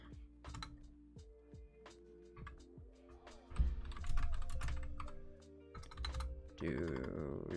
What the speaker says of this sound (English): My mic is in front of my keyboard.